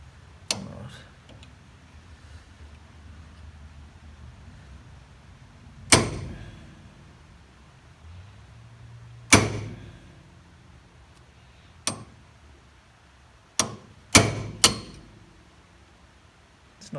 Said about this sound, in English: It's a bit better for me to get a swing on it, on the hammer.